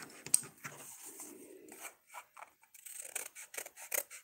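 Scissors snipping through paper for a small keepsake card box, a close, quiet series of short crisp cuts and rustles, irregular in rhythm with brief pauses.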